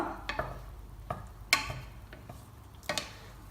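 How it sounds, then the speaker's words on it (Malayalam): A spoon stirs pumpkin and bean erissery, a Kerala curry, in a pot, giving a few distinct scraping knocks spaced irregularly over a soft simmering background, close and fairly clear with no talking. "ഇനി ഇത് നന്നായിട്ടൊന്ന് ഇളക്കി കൊടുക്കുക."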